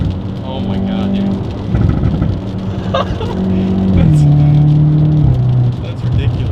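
Hyundai Veloster N fitted with an SXTH Element downpipe, loud exhaust drone and revs rising and falling nearby, with people talking over the engine throughout.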